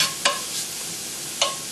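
Vegetables fry in a little olive oil in a pan previously used for hamburger, a steady close hiss broken by two brief clicks.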